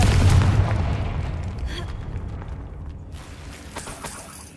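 A Confringo spell explodes in Hogwarts Legacy as a loud, close boom with a low thump that decays into a fading rumble and debris crackle over several seconds, with no voices.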